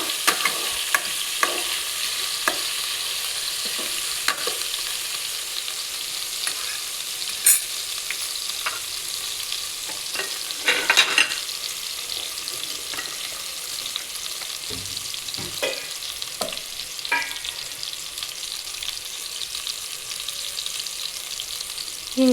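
Drumstick (moringa pod) masala frying in a pan with garlic, tomato, asafoetida and turmeric, giving a steady close sizzle with scattered stirring scrapes and clinks throughout, no voices.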